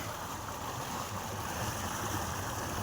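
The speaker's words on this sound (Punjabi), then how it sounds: "ਬੁੜਕਦਾ ਪਾਣੀ" Water gushes and bubbles steadily from pumps driven by two or three motors in a farm channel, a continuous rushing, churning wash that stays loud and close throughout with no voices.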